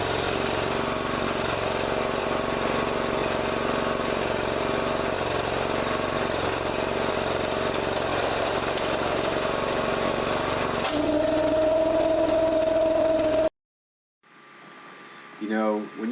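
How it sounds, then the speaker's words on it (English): Trencher machine digging a drainage trench for a flooding driveway, a loud, steady mid-pitched engine drone running continuously close by, then cutting out abruptly near the end before fainter sounds follow. "now we're going to finish the trenching with the machine, send it right out to the back"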